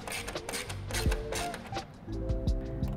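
Ratchet wrench with an 8mm socket tightening the mounting bolts and nuts of a large e-bike basket, giving close, repeated mechanical clicking strokes in short bursts with brief pauses between.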